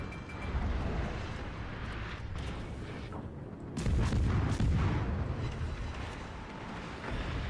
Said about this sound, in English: Alright, well then, open fire